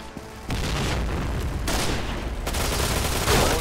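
Rapid bursts of automatic gunfire and booming shots in a first-person shooter, loud and close, starting abruptly and continuing in dense volleys with brief gaps.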